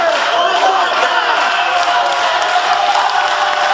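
An indoor basketball crowd applauds and cheers the 80 Basket Ozieri team in a steady, dense wash of clapping and voices with no break.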